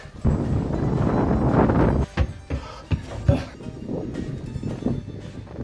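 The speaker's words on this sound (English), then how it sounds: "the wind!" Strong wind gusts roar outdoors, a heavy low rumble of wind buffeting the microphone, loud and continuous with sharp bursts, easing into an uneven rush.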